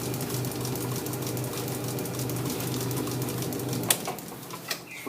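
A metal lathe turns 10mm black round bar down to size for a carburettor butterfly shaft repair. It gives a steady, close mechanical whir with a constant hum, and a few small clicks and knocks come near the end.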